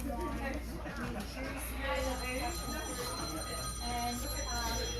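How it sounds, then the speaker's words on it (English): A telephone rings in repeated trilling bursts, heard faintly under people talking on board the Spirit of Tasmania ferry at Devonport, Tasmania, over a steady low engine hum. "That'll be the phone."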